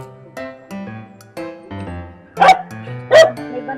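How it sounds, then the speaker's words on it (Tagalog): A dog barks twice, loud and close, over a low steady harmonic drone, with no voices in between. "May aso ah."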